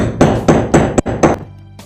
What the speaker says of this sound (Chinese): 同样用锤子敲打